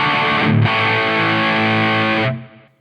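Distorted electric guitar through a Line 6 Helix modeling a Soldano SLO-100 amp on its distortion channel, a loud sustained chord ringing steadily with a brief pick attack, then cutting off and decaying at the end.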